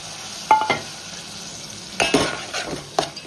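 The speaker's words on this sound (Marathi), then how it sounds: "आता आपण याच्यात भिजत टाकलेली मसूर टाकूया।" Soaked masoor lentils are tipped into a pan of frying masala and stirred, giving a few quick scraping, rattling bursts over a soft steady sizzle, close by with no voices.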